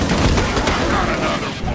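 Heavy gunfire fills a battle in the video game Disintegration, a dense, continuous barrage of overlapping shots that stays loud and unbroken throughout.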